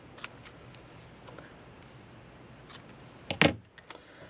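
Scissors snipping the ends of a fluffy ribbon for a greeting card bow, a single sharp close snip after a few faint small clicks and rustles, otherwise quiet.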